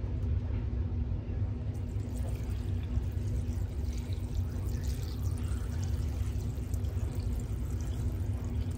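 Distilled water pours steadily over sea moss set to soak, a soft continuous watery rush with a low rumble underneath, quiet and close, with no speech.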